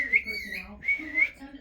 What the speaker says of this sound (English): my bird's whistling at me now.